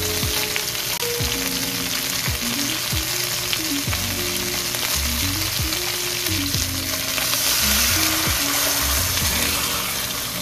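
Chicken adobo sizzling loudly in a hot pan as a splash of water is added, with continuous frying hiss and bubbling throughout, no talking.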